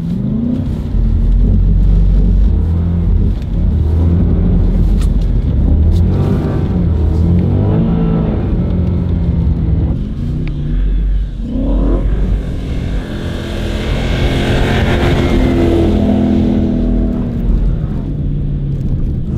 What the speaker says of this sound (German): So, hier war nochmal eine schöne Driftkurve.